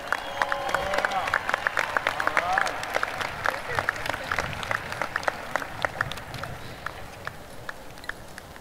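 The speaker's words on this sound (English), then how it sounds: "Please give our valedictorians one big round of applause." A high school graduation crowd claps for the valedictorians, scattered applause with distinct individual claps and crowd murmur in a large hall, tapering gradually toward the end.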